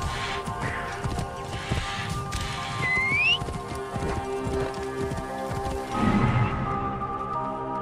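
Horse hooves clip-clopping in the Assassin's Creed Origins video game, steady close hoofbeats under a busy game soundscape, with a brief whistle-like tone and a louder flurry of hoof and movement sounds near the end.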